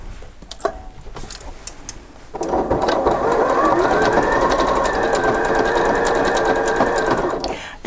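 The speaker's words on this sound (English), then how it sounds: "all I have to do is use the guide on the foot to help me and just sew my seam" After a short quiet start, a Janome 4120QDC-T sewing machine sews a garment seam, giving a steady, close, fast mechanical whirring hum that runs on evenly to the end.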